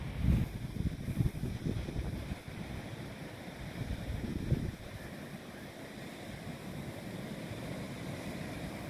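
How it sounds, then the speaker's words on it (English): Choppy waves wash onto a sandy beach at Pinery Provincial Park, a low continuous rumble with wind noise on the microphone, a little stronger at the start and then settling. "You hear the waves?"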